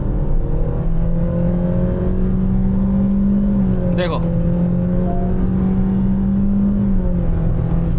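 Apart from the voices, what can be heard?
Honda Amaze CVT engine revving to redline in sport mode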